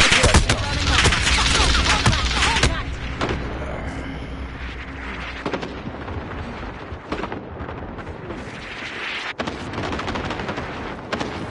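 A called-in artillery strike in a video game: a heavy cluster of booming impacts and blasts at the start, then a rumbling, crackling aftermath that fades to scattered distant shots and thuds.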